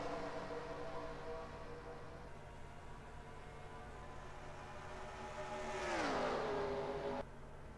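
Stock cars roar around the Charlotte track during the All-Star race, a steady layered engine drone with one car sweeping past close by, its pitch dropping as it goes, before the sound cuts off abruptly.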